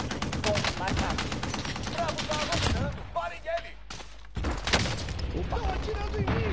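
Automatic gunfire in Call of Duty Modern Warfare, loud rapid bursts layered under shouted voices and radio chatter, pausing briefly before another heavy burst.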